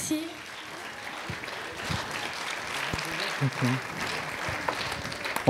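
An audience applauds after a singer's performance at a Téléthon talent show in Saint-Maurice, a moderate, diffuse patter of clapping that carries on throughout, with a few voices and stray sounds over it.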